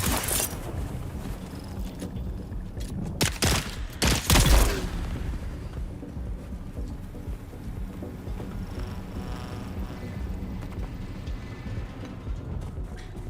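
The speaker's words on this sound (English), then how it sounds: "Someone's shooting at me." Gunfire rings out in Dune Awakening, a short cluster of sharp loud shots a few seconds in, followed by a steady windy background with no further firing.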